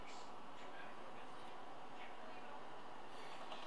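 NYC subway R142 train running in the OpenBVE train simulator game, a steady rumbling roll with faint higher hiss and squeal, continuous throughout at low level.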